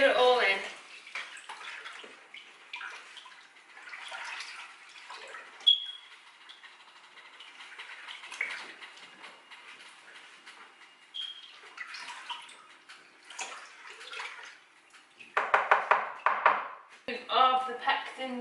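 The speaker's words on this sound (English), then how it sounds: "You just want to use your sterilised spoon to stir it all in." A sterilised spoon stirs blueberry wine must, giving wet swishing and scattered light clinks against the container, with brief louder splashy stirring bursts toward the end.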